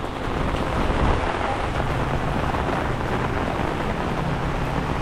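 Heavy rain pours steadily during Typhoon Carina in flooded Manila streets, a dense continuous roar with low rumbling wind noise throughout and no voices.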